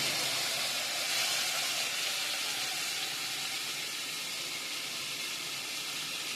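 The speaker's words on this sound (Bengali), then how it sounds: "ওইদিকে মাংসর পেঁয়াজটা কষছে ভাই" Onions frying in oil for a meat curry in a home kitchen, giving a steady, bright sizzle and hiss that holds evenly throughout, close and unbroken, with no voices over it.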